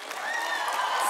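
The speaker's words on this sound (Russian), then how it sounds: "Зал слишком сильно аплодирует." A television studio audience at a comedy show claps, a brief, dense burst of applause with a voice faintly above it.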